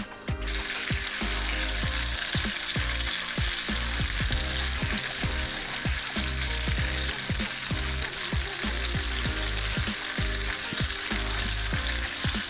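Flour-coated deer heart pieces fry in a hot pan with a loud, steady sizzle that runs throughout, broken by light clicks and scrapes from the pan. No one speaks.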